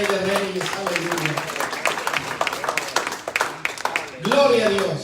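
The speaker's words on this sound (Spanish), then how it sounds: "denle fuerte palmas al Rey de Reyes" Congregation in a Spanish-language evangelical church service clapping for the King of Kings, dense rapid applause throughout with singing or voices layered over it and a louder swell near the end.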